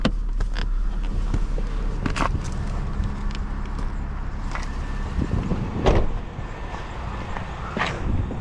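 A 2012 Chevrolet Camaro SS engine idles with a steady low rumble, heard from outside the car, with scattered thumps and clicks like footsteps and handling nearby.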